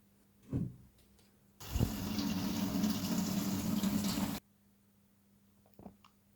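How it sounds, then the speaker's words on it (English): Running water from a kitchen tap pours over chopped leek in a strainer, a steady rinse of about three seconds framed by quiet handling noises before and after. "I'm adding all the chopped leek into a strainer, and then I'm going to go ahead and give this a good rinse."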